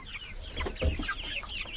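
Roosters and hens cluck busily nearby, overlapping calls in a continuous chattering flurry with no talking.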